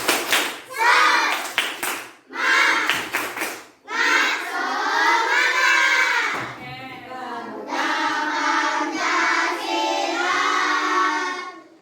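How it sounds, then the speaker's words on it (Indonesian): Schoolchildren in an Indonesian classroom perform a rhythmic spirit clap, bursts of sharp patterned hand claps alternating with loud chanted shouting in unison. "Tepuk semangat"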